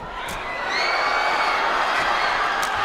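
A badminton arena crowd reacts after a rally, a broad wash of cheering and murmuring that rises sharply just under a second in and holds steady and loud throughout.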